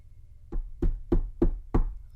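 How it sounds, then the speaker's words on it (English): Five evenly spaced knocks on a door, each a sharp wooden rap roughly a third of a second apart, clear and alone against a low steady hum. "I heard a knocking on the door"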